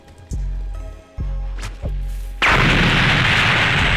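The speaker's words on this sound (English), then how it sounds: "Yeah, and then there's a little explosion" A fighting skill move in a hood fighting video game: three sharp punchy impacts at a steady rhythm, then a small explosion bursting into a loud, sustained hiss of noise.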